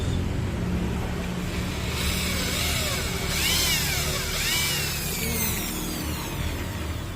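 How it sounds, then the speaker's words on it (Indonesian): Power drill boring through a part of a Rinnai gas stove, a steady whine with rising and falling pitch over a continuous motor hum, fairly close and without voices. "kemudian bor tembus"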